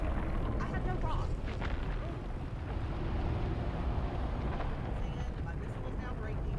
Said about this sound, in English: they're literally trying to chase me with their missiles